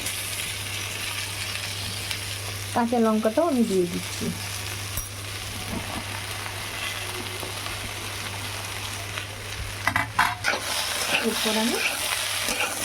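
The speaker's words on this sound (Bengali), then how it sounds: "খুব ভালো করে একটু ভেজে নেব।" Brinjal, green chilli and other vegetables sizzle and crackle in hot oil as a spatula stirs them in a pan, a steady frying hiss throughout with a few scraping stirs and someone speaking over it.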